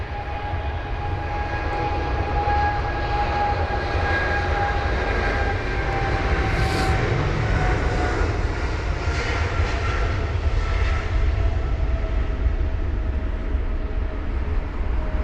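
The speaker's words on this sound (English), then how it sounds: "There's the Egypt Air 777 off to Cairo." An EgyptAir Boeing 777-300ER departs Heathrow bound for Cairo on a wet runway, its engines producing a sustained loud roar with a high whining tone that slowly falls, heard alone.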